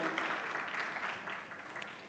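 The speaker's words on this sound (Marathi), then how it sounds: "तर जोरात टाळ्या वाजवून स्वागत करूया आजच्या सर्व कवी मित्रांचं" A short, dense burst of clapping from an audience welcoming child poets at a district literary gathering, steady and fairly close.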